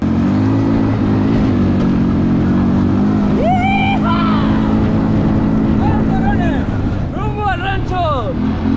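A small motorcycle on the ride to a ranch, with a loud steady engine drone and rumbling wind noise throughout while voices shout and call out over it.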